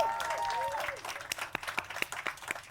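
An audience gives a short burst of applause, scattered claps rising after a fading held note, faint and somewhat distant with the sound of a room around it.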